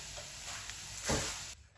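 Two spoonfuls of oil sizzle in a pan while semolina donut filling cooks, a brief close hiss that swells into a louder sizzling burst near the end before cutting off.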